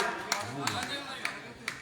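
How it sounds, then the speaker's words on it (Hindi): A handful of sharp, isolated claps ring out at a Hindi poetry gathering (kavi sammelan), spaced roughly half a second apart beneath an ongoing voice. "एक बार जोरदार तालियां बजा करके मुझे स्वागत है"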